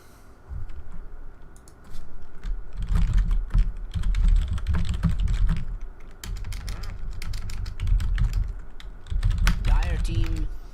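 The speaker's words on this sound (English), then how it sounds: "I'm sure you guys can hear me typing" Rapid clicking of a computer keyboard, close and busy, in bursts with short breaks between flurries of keystrokes.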